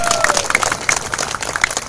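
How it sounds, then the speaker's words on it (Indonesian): Brief applause from an audience at an Islamic religious gathering, scattered clapping mixed with crowd noise and a voice speaking over it. "Tepuk tangan dulu untuk Polda Riau"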